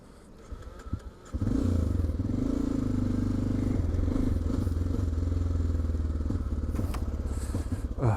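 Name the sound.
Honda Dominator 650 motorcycle engine running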